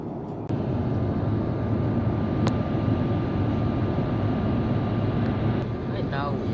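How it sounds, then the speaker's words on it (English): Cabin of a Singapore Airlines A350-900 descending into Singapore, a steady broadband roar of engine and airflow that stays constant. A chime sounds once and a person speaks over it. "pilot has recently announced that we are starting our descent into Singapore."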